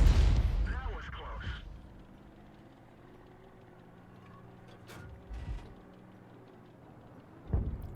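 A 105 mm leFH18B2 artillery gun fires in a tank battle video game, a deep booming shot at the start that rumbles away, then quieter distant thuds and a sharp boom near the end, under a voice.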